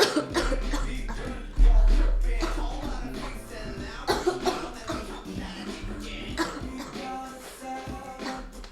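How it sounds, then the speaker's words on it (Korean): Repeated bursts of coughing from a person, close and fairly loud, arriving in a rough irregular cluster over a low background murmur with some shuffling. "기침이 한번 나오면 안 멈춰."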